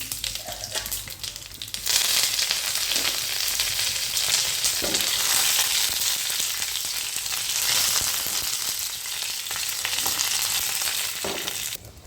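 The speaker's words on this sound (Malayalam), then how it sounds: "ഒരു പാൻ അടുപ്പത്ത് വെച്ച് 2 സ്പൂൺ വെളിച്ചെണ്ണ ഒഴിച്ചു കൊടുത്തിട്ടുണ്ട്. അതിലേക്ക് കടുക് ഇട്ട് കൊടുത്തിട്ടുണ്ട്." Mustard seeds and dried red chillies frying in two spoons of coconut oil in a pan, a tempering for parippu curry, give a loud, steady, close sizzle with scattered sharp pops for about twelve seconds.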